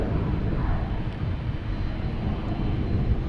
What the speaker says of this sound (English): Next taken off is the Delta 100 years livery.